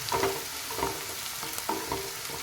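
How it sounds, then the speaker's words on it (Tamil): Onions being sautéed in a pan for a dhaba-style egg masala curry, with a steady sizzle broken by periodic scraping stirs of a spatula, close and moderately loud. "நல்லா வெங்காயம் வந்து வதக்கிக்கோங்க"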